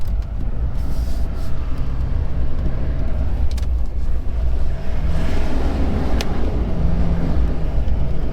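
An old Chevy truck spins its tires as it climbs slippery ground, its engine a loud continuous rumble with wind buffeting throughout, no talk.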